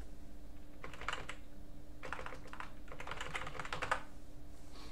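Typing on a computer keyboard, producing bursts of soft rapid key clicks separated by short pauses over a steady low hum, close and quiet, with no voices.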